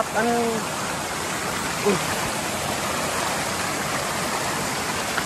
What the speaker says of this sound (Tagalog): May mini waterfalls.